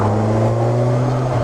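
Kawasaki Z1000SX motorcycle engine revving from about 3,000 to 4,000 rpm, a loud, close, steady tonal drone held through the short stretch, no talk over it.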